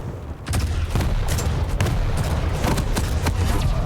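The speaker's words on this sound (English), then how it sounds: "Oh, they are some nice rockets." Rockets fire in rapid succession during a Quake Pro League match, sharp blasts over a loud, steady wash of game noise.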